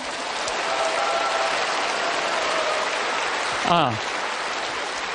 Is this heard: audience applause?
yes